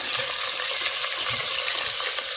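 Garlic sizzles and fries in a pan, a steady close crackling hiss with faint stirring scrapes underneath and no talking.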